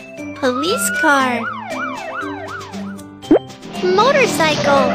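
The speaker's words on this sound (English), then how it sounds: "Police car." Police car siren from a children's sound-learning cartoon, a wailing up-and-down tone sweeping repeatedly, loud and close, with a popping effect and a voice nearby.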